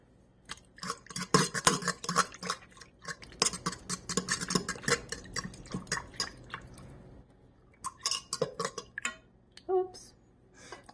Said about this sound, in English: And then I'm just going to stir it.